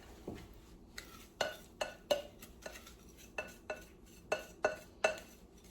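Sugar being measured into a pot of plum butter, heard as a series of sharp metallic clinks and scrapes of a measuring cup against the pot, close and fairly quiet, repeating irregularly with no voices.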